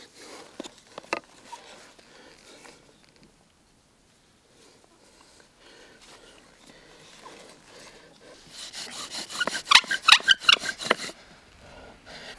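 Bow drill spindle rubbing against a hearth board of damp wood, a rhythmic rasping that builds to louder, faster back-and-forth strokes near the end after quieter scraping.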